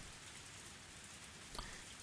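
Steady rain falling at night, a dense even hiss of drops on surfaces with a brief louder patter near the end, faint and continuous with no voices.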